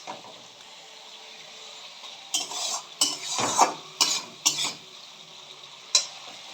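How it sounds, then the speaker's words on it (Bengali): Spices with Kashmiri chilli powder frying in a pan over medium heat for egg kosha, a low steady sizzle broken by several sharp scraping stirs of a utensil against the pan in the second half. "দিয়ে ভালো করে কষতে থাকবো আগে।"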